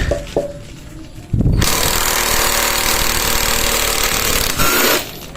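A cheap XRH Tool electric impact wrench, rated at 59 newton-metres, spins counter-clockwise to loosen a nut, giving a loud, continuous rattling hammer for several seconds after a brief start-up, close to the listener.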